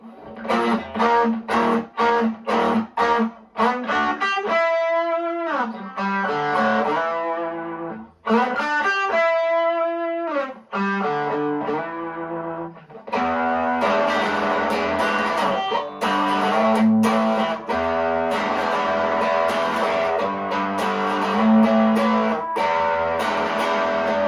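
Harley Benton CST-24 Deluxe electric guitar with its humbuckers split to single-coil, played through an amp with effects: picked arpeggiated chords and single notes ringing out loud and clear, followed by fuller strummed chords, with no talking.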